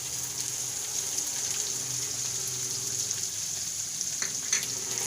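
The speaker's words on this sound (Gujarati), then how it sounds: "તો હવે આપણે ડુંગળી નાખી દેવું" Onion added to a cooked masala in a pan while making chana dal, giving a continuous, even frying sizzle that holds steady throughout with a few faint clicks.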